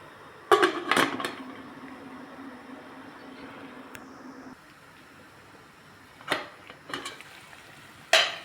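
A metal lid clanks onto a pot of mackerel soup with potato tops in a home kitchen. Sharp, close clinks are followed by a quiet lull and a few more light knocks near the end.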